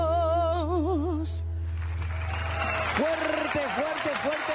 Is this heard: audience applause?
yes